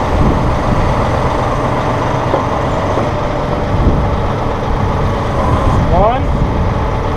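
A Massey Ferguson CB75 backhoe on a 1700 Premium compact tractor runs steadily as its arm swings left and right, with a constant loud engine drone, a brief hydraulic whine near the end, and talking over it.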